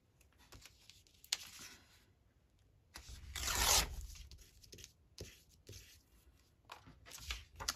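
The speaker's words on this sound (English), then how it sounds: "Rip the bottom off" Paper ripped off a mini notebook by hand, a loud close tearing burst in the middle, surrounded by smaller tearing and rustling handling noises.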